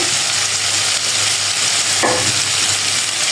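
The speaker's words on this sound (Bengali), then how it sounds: "এখন ভালোভাবে মশলাটাকে কষাবো আর সাথে দিব টমেটো" Masala spice paste with tomatoes sizzling and being stirred in a pan for surma fish bhuna, a loud, continuous, close frying hiss with a single scrape of the spoon.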